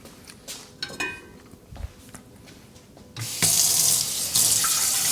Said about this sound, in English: I'm gonna fill this up with water.